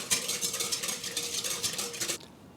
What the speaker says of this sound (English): 7 grams of active dry yeast. Give that a whisk.